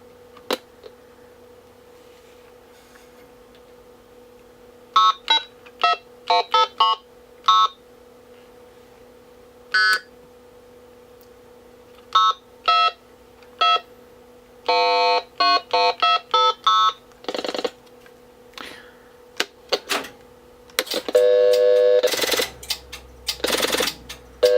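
Telephone test tones from a Sage 930A test set under repair: bursts of short beeps and dual-tone dialing in quick rhythmic groups over a steady low hum, ending in denser, louder buzzing tones.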